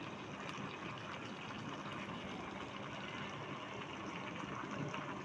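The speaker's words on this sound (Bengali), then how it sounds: "ঝোল দিয়ে দেব।" Broth being poured into a pan holding fried mrigal fish, a faint, steady gushing pour that runs continuously without pause.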